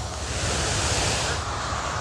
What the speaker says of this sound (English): This giant wave coming ashore